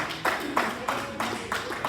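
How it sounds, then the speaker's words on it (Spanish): An audience in a Spanish-language sermon setting claps in a regular series of sharp, moderate bursts, about six evenly spaced rounds heard alone. "Denle un aplauso fuerte"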